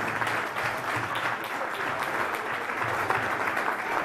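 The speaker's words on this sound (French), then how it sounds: "Je pense qu'on peut les applaudir" An audience at a carnival poster unveiling in Ressaix applauds, a continuous, even roar of many hands clapping close and full for the whole stretch.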